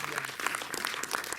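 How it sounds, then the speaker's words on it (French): An audience claps steadily for a guest at a French talk event, a dense patter of hands that is moderately quiet and continues evenly without cheering. "on applaudit le camarade"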